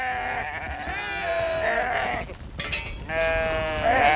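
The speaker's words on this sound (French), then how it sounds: "comment dresser une brebis meneuse," A lead ewe in a Moroccan sheep flock bleats in long, wavering cries, loud and close, with a second bleat following after a short break.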